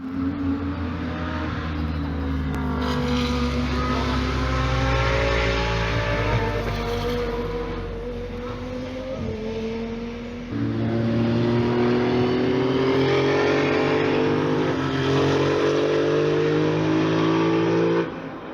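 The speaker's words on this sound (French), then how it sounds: "les GT3 se sont mis en piste" GT3 race cars driving on the Spa circuit during the centenary 24 Hours in rain, engines rising and falling as cars pass at a distance, a continuous roar with shifting pitch and no talk.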